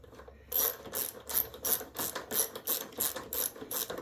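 A socket ratchet clicks in quick rhythmic bursts, about eight close, loud strokes, while bolts are tightened during replacement of the all-wheel-drive belt and idlers on a Husqvarna mower.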